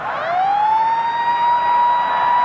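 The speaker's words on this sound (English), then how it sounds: "There's the siren." The full-time siren at the 1987 Rugby World Cup match between Australia and England sounds at Concord Oval in Sydney as a loud, sustained rising wail that settles into a steady tone.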